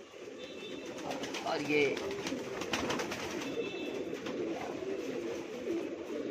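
Domestic pigeons coo softly in a home loft in Mumbai, a few low burbling calls scattered through steady background noise while someone talks over them.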